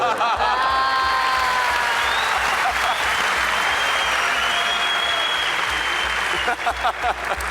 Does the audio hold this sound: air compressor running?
no